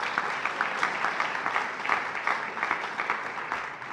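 Listeners at a university's State of the University address applaud. Steady, dense clapping carries on evenly through the whole clip with no voices over it.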